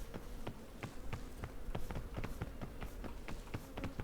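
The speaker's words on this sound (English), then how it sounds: "Those bees are really close." Bees buzz close by in the video game PEAK, a continuous insect drone with sharp ticking clicks scattered through it, steady and fairly loud, with no talking.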